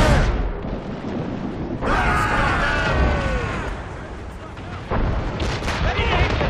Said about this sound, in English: Enemy ahead! Ready, cannons!